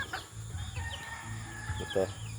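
Native chickens and a rooster cluck in a farmyard, soft and scattered at first, then a louder, nearer burst of clucks near the end over steady low background noise.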